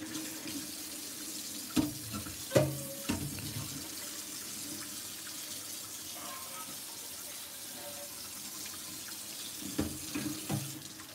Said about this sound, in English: You want to make sure you get all that water in here.